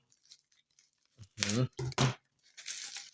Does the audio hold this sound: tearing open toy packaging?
yes